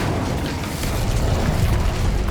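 A Bombarda spell explosion in the Hogwarts Legacy video game, heard as a loud, dense, rumbling blast that fills the whole moment with booming low-end energy and crackling debris, with no voices over it.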